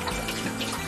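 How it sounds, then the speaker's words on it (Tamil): Hot tap water runs steadily into a sink for washing dishes, a close, continuous rushing splash with no pauses. "இப்போ தண்ணி சூடாயிட்டு ஒரு 2 கழுவிடுறேன்."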